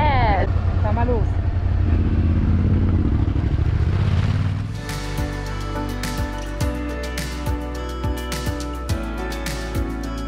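Adventure enduro motorcycle riding a rocky trail on the TransEuroTrail in Spain, tyres still at high road pressure; a steady engine drone with irregular clattering bumps and knocks from the stones, close by, after an initial stretch of louder rumble.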